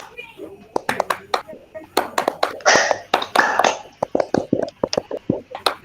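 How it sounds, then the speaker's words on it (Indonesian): A group claps out the Indonesian Scout rhythmic clap, tepuk pramuka, in crisp patterned bursts with a few quicker flurries, close and loud, and voices chant along with the claps. "Tepuk pramuka."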